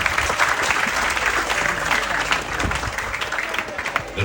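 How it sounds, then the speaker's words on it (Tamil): A crowd at a public event in Jaffna gives strong, continuous applause, a dense wash of clapping that stays loud and steady throughout, with an announcer's voice faintly mixed in underneath. "உங்களுடைய பலமான கரகோஷத்துக்கு மத்தியில்"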